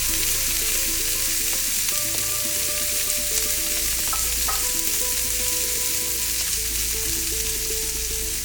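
Pancetta slices fry alongside burgers in a pan in a wood-fired oven, a dense continuous sizzle and crackle with a steady tonal hum running underneath throughout.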